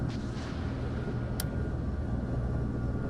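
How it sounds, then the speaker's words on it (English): An attack helicopter in a flight sim video game produces a steady, low engine rumble that stays faint and constant throughout, with no voices. "There's an attack helicopter on my right."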